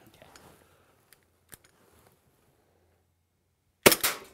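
WE PX4 gas blowback airsoft pistol firing 0.2 g BBs: after a quiet stretch with a few faint clicks, two sharp, loud cracks follow in quick succession near the end.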